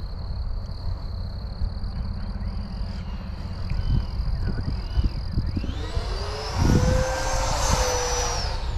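A Freewing F-22 Raptor electric RC model jet whooshes past, its ducted-fan whine rising and sweeping in the second half, over a background of croaking frogs and insects.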